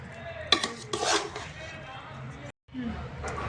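A spoon scrapes and clinks against a metal pot as rice with salt is stirred, a few short rattling strokes with a brief pause, heard up close alongside soft talk.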